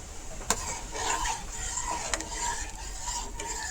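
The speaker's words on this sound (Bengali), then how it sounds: "ওরকম শিরাটা ফুটিয়ে উঠেছে দেখুন" Sugar syrup with food colour bubbles in a pan as a soft, continuous frothy simmer, broken by a few faint clicks, with no talking.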